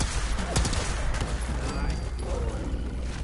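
Gunfire in Fallout 4, with a cluster of sharp shots early on, then rattling bursts over a constant low rumble of game ambience, with a voice talking over it.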